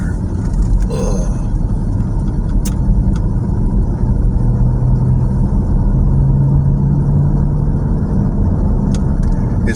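A Jeep's engine rumbles steadily at close range while driving on a warm spring day, a continuous low drone with a faint rising whine partway through and a few small knocks.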